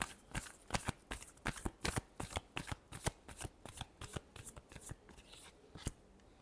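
A deck of tarot cards is shuffled in quick, regular riffling bursts. The crisp flutters repeat close up and evenly, with no voices.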